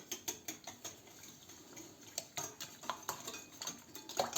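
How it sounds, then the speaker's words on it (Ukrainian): Quick, steady strokes of a utensil clink and scrape against a bowl as eggs, sugar and salt are stirred, close by and fairly soft, with no talking. "І це все розмішуємо."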